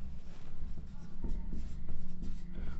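Chalk or marker scratching steadily across a classroom board during a chemistry lesson, a continuous close scraping with short stroke bursts and no speech.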